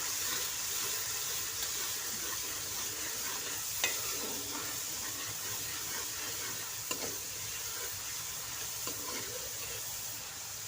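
Masala cooking in a pan with a little water added gives a steady, soft sizzle and bubbling hiss throughout, with an occasional faint clink.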